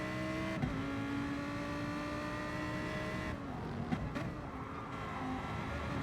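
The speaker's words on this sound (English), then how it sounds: "Good train of GR3 cars coming through here then." A train of GR3 race cars streams past at the Catalunya circuit in a sim racing league game, with layered engine whines and revving rising and fading continuously over several seconds.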